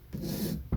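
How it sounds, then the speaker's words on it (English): A single stroke of hand sanding with sandpaper, a dry rasping rub across acoustic guitar wood lasting under a second, followed by a short second scrape. "we're just sanding it down just enough"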